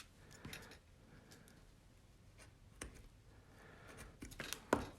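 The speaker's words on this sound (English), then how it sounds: "I'm just going to take my little knife and just sort of cut that right to the edge of the paper" A small craft knife cutting along the edge of paper, faint close scratchy strokes with a few sharper taps, louder toward the end.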